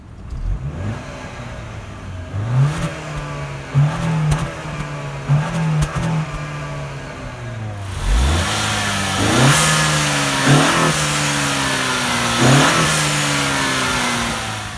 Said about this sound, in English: let's go ahead and check out the exhaust